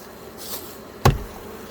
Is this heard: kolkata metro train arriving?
no